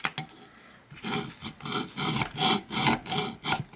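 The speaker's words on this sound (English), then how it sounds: "I got the cotter pin here mounted in a vise, and I want to file this down" A hand file rasps back and forth across a steel cotter pin clamped in a vise, with about ten regular, fairly loud strokes in close steady rhythm.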